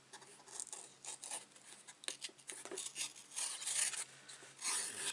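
Scraping, rasping cuts as a very sharp blade trims stiff material on a handmade vintage-style stationery box, close and fairly quiet, in uneven strokes growing busier toward the end.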